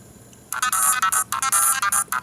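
Harsh, tinny electronic game music from Pac-Mania on a My Arcade Pac-Man handheld, bursting in after a quiet start and chopping into short bright bleeping phrases, loud and distorted with no voices.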